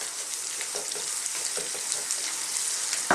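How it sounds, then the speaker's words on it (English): Fresh garlic and ginger fry over lively heat for an Indian fish fry masala, a loud, close, continuous sizzle with scraping stirs and small pops, no talking. "So let's fry these around for about just like 2 minutes."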